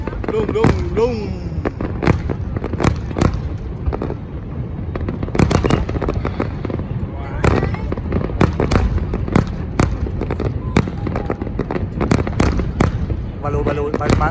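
A dense barrage of New Year 2020 fireworks at Landmark 81 pops and booms close and loud, the bursts coming rapidly and irregularly over a continuous crackle, with voices audible in the mix.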